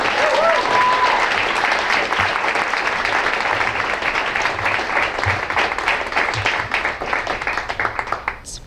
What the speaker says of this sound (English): Please, a thunderous round of applause for our amazing speakers this evening.